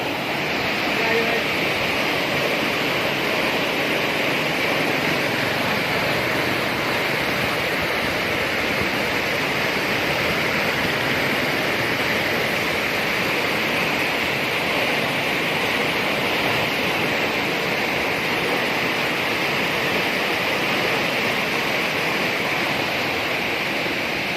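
Water in a canal rushes past in a loud, steady roar that holds without a break from start to finish, close by and continuous.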